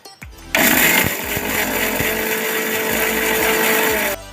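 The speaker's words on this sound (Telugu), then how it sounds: "ఫస్ట్ వీటి ముందు మిక్సీ కొట్టుకోవాలి" A kitchen mixer grinder whirs as it grinds dried red chillies, starting abruptly after a brief rattle, running at a loud steady roar for several seconds, then cutting off.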